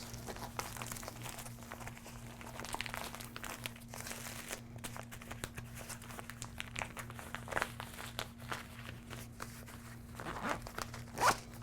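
A zipper slides along a zip bag packed with a first aid kit, its soft, steady rasp mixed with faint crinkling of the bag material, all fairly quiet with a low electrical hum underneath.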